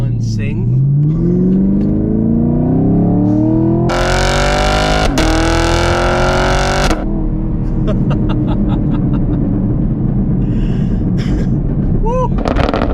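A 6th-generation Chevrolet Camaro SS with an LT1 V8 climbs through the gears on an open road, engine note rising steadily, then a sharp burst and roaring pull before settling into a steady drone, with voices nearby.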